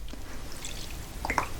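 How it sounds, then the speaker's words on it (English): Water is squirted into a thick paint mixture in a cup, giving a few small, soft wet drips near the end, faint and close against a quiet room hum. "So we're going to add a little bit of water,"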